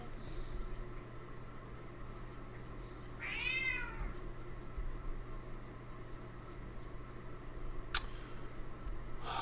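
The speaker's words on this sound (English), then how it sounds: "I got a cat just yelling at me" A house cat meows once, loud and drawn out, against a steady background hum, followed by a brief sharp sound.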